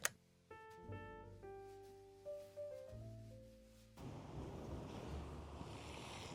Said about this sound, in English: One of the drains that lead directly to the sea. It spurts.